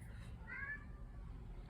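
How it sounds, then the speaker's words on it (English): A house cat meows once in the quiet, a short call heard from a little distance over low room noise. "my cat's calling to me"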